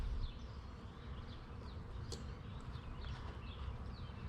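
Honeybees from a three-pound package, roughly 3,000 insects, hum steadily as they leave the box, a constant low drone with faint bird chirps in the background and no talk.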